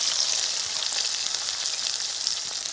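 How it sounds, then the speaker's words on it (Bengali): Chopped onion fries in hot oil with nigella seeds, giving a bright, steady, close hiss of sizzling that carries on without a break. "কালো জিরে ফোড়ন দেব, দিয়ে দিচ্ছি পেঁয়াজ কুচি।"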